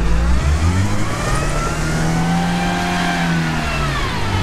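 An off-road car revs hard while climbing through mud on a steep slope, its engine rising and falling in loud sustained surges close by with no talk over it.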